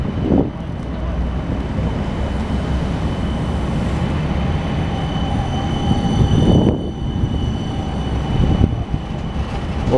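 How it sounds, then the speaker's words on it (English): A Sydney light rail tram bound for Dulwich Hill rolls past with a steady, broad rumble and hiss, wind buffeting the microphone throughout. "What they call the light rail train heading for Dulwich Hill."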